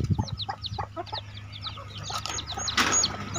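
Thai native chickens and chicks cluck and peep close by on a small farm, with rapid repeated high chirps and short clucks throughout, and a louder burst near the end. No one speaks.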